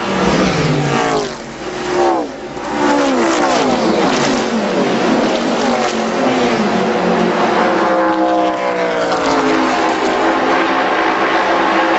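Race cars at full speed in the 1981 Daytona 500, a loud continuous roar of high-revving engines with pitch sweeping as cars pass close by, sustained throughout without talk.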